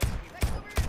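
Gunfire in the video game Deceit 2: three sharp, punchy shots in quick succession, each with a brief tail.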